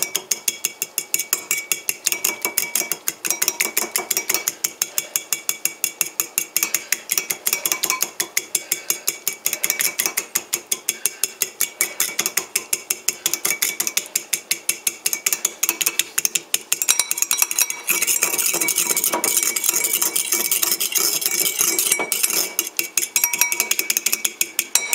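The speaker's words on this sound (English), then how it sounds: "Now I'm gonna beat up the egg yolks a bit" A whisk or fork beats egg yolks in a bowl for hollandaise sauce, a rapid, steady clicking and tapping that runs close and continuous throughout with no talking.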